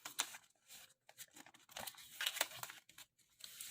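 Paper being folded and creased for an origami cockatrice, with close, crisp crinkling and rustling in uneven bursts as the sheet is handled and pressed flat.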